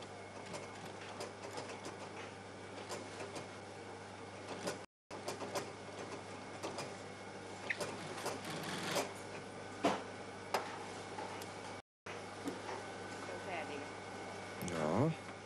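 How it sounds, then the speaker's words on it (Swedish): Sewing machine stitching a shoe's toe cap to its side pieces, a steady mechanical whir with rapid needle clatter running in bursts with two brief gaps, fairly quiet and close. "Här syr man ihop tåhättan med sidostyckena."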